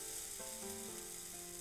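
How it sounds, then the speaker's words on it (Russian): Thin zucchini pancakes fry in a hot pan over high heat, a steady, dense sizzle that stays even throughout with no talk. "Жарю блины на огне чуть ниже максимального и обжариваю блины примерно по 30 секунд с каждой стороны"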